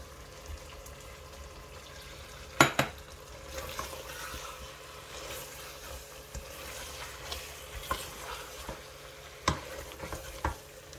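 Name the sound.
green chillies added to frying chicken in pan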